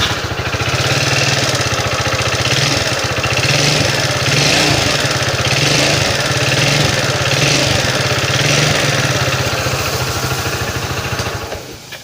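A Yamaha Mio Sport carbureted scooter, smoking white from worn piston rings after running low on oil, idles with a steady close putter that holds for about twelve seconds before dropping off.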